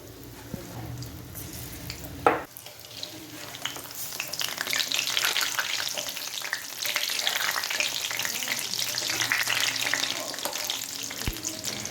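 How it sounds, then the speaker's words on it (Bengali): Onion leaf pakoras deep frying in mustard oil, a bright continuous bubbling sizzle up close after a clatter as batter drops into the hot oil, steady and alone throughout. "আমি এখানে সরষের তেল দিয়েই ভাজছি এই পকোড়া"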